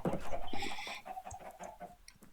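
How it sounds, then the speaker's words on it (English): Chickens in the Minecraft video game cluck in a quick, busy run of short calls, fairly close and loud at first, then softer and scattered. "let's see if we had some new chickens"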